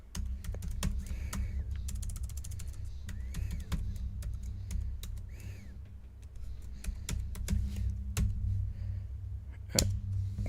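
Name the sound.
typing a network password on a Chromebook keyboard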